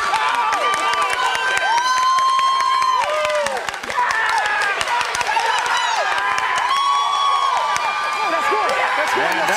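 Youth crowd cheers, whoops and shouts continuously at a Little League World Series game in 2021 as a Michigan player circles the bases on an inside-the-park home run, with loud high children's voices over scattered clapping throughout.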